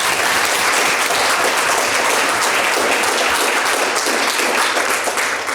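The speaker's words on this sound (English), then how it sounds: "I think a big round of applause." An audience at an early childhood election forum in South Australia gives a loud, steady round of applause lasting several seconds, with dense, even clapping throughout.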